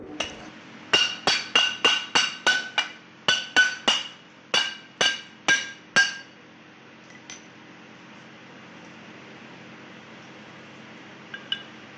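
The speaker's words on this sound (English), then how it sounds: "the fused mass was taken out by hammering the back side of the bowl." About a dozen sharp metallic clinks in quick succession, evenly paced hammer taps on the back of a bowl to free a fused mass, then near silence with one faint tap at the end.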